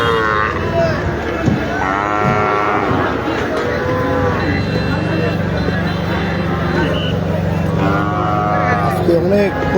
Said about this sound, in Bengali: অনেক প্রচুর পরিমাণ কিন্তু গরু উঠছে এই হাটে।